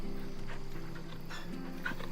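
Dog whimpering in the game Final Fantasy XVI, soft whines and faint yips under a steady low musical score, close and brief with no talk.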